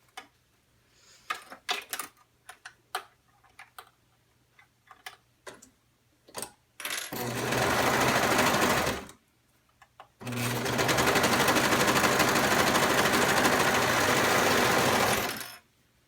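Sewing machine topstitching leggings: scattered ticks and clicks first, then two long, loud, steady bursts of rapid whirring stitching separated by a short pause.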